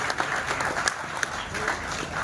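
A village panchayat meeting greets a speaker with applause, a dense, continuous clatter of many hands at even volume, with some voices mixed in.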